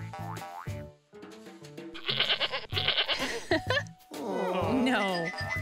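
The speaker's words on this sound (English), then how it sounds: "No, this is not a lipstick. This is a goat." A cartoon goat bleats amid playful children's-show music, with bouncy boing effects and chimes, the wavering bleat standing out near the end over the busy, loud backing.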